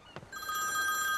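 A telephone rings with a steady electronic bell tone, close and clear, beginning shortly into the moment and continuing without pause; a brief knock or movement sound precedes it, and no one speaks.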